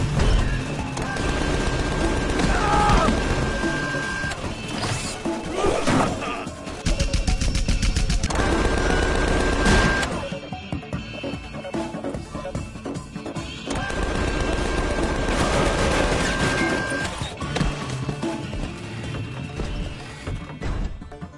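Video game gunfire, a loud, sustained mix of rapid shots, crashes and impacts running almost continuously with brief lulls, with game voices mixed in.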